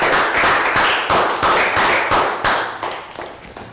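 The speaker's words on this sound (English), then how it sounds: "So a round of applause for everyone." Students in a classroom clap in a round of applause, loud close hand claps in rhythmic pulses that thin out toward the end.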